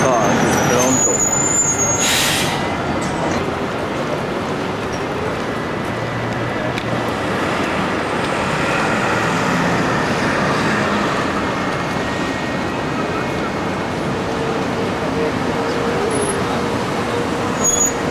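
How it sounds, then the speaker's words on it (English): Steady, loud roar of car traffic on a Toronto street, continuous close road noise of passing vehicles with a brief sharper high squeal near the start. "Some cars in Toronto."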